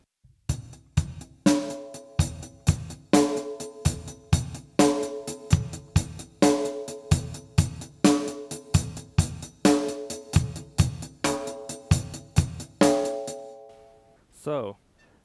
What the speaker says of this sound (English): What I'm going to do now is that I change the last beat from bass drum to snare drum.